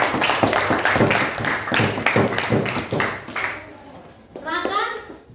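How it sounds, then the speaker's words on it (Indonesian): Classroom pupils applaud with a burst of rhythmic hand claps lasting a few seconds, then a voice speaks as the clapping stops. "Ya, bagus. Tepuk tangan."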